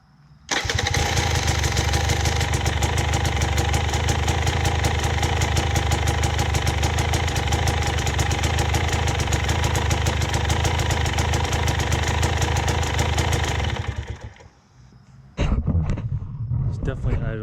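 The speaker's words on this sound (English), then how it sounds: "It's definitely idling a little better now, a little faster." A small engine with a modified idle runs steadily and loud for about fourteen seconds with a rapid, even chug, cuts out briefly, then picks back up.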